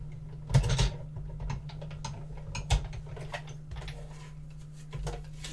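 A craft embossing or die-cutting machine working in a home crafting space, close mechanical clicks, ratcheting and grinding over a steady low hum, with a few louder clunks, no talking.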